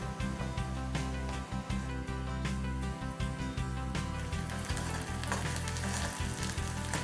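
Ginger garlic paste frying in oil with browned onions, a dense, steady sizzle with crackles and occasional stirring clicks, close and continuous, no voices.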